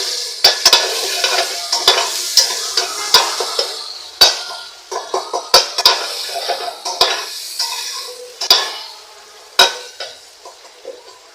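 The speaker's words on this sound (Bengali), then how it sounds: "পেঁয়াজটা ভাজা হইতে থাক পেঁয়াজটা ভাজা হয়ে গেছে" Onions sizzle steadily in a pot while a spoon clanks and scrapes against the metal again and again; no one speaks.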